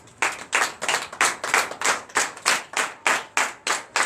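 A congregation at a night service of deliverance and prophecy in Benin claps together in acclamation, about a dozen loud, evenly spaced unison claps in a steady rhythm, clear and close.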